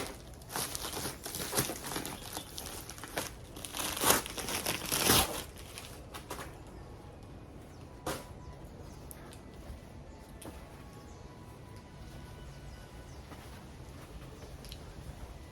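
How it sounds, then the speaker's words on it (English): Crinkling and rustling of plastic and paper packaging as a Gustin #77 cone black selvedge denim jeans parcel is unboxed, loud bursts of crumpling in the first five seconds, then sparse, quieter handling rustles. "So we're going to unbox this item."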